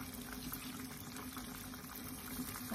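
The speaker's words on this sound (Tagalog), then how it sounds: "And then, lalagay natin yung water." Water poured into a cooking pot while making menudo, a steady, fairly quiet splashing pour that runs unbroken through the whole moment with no talk.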